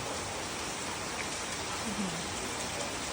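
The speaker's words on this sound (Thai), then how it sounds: "บรรยากาศเป็นยังไงพี่บัวฝนตก" Steady rain falls outdoors during an open-air cooking session, a dense even hiss of drops on surfaces that fills the whole stretch with no voices rising above it.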